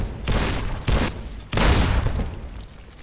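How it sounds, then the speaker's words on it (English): A Securitron's M235 missile launcher firing in Fallout New Vegas, three heavy booming launches spaced about a second apart, each with a rushing roar that trails off. "The M235 missile launcher gives the Securitron the ability to..."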